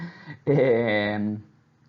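A dog whimpers indoors on a hot day, one drawn-out whining cry lasting about a second, close and fairly loud, with no talk over it.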